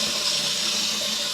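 Water sputters and hisses steadily through a newly installed water softener line as trapped air is purged, a continuous close, broadband rush with no pauses.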